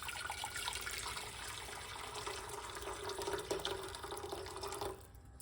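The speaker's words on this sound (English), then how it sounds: "put some hot water in the pot like this" Hot water pouring into a pot, a steady close splashing stream that runs for several seconds and then stops abruptly near the end.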